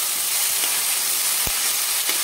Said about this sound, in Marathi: 1-2 मिनिट फक्त तेलामध्ये फ्राय करून घ्यायचे।